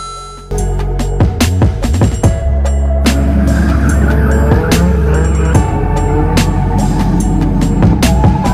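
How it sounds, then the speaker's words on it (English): A car drifts at a drift event, engine roaring loud and close with bursts of squealing, skidding tires and sharp crackles over a continuous heavy rumble. "more drifting."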